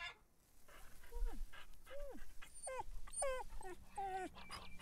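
A dog in the farming game Farmer's Dynasty whimpers in a series of short, high, wavering whines, mixed with soft panting, fairly close but quiet over faint background sound.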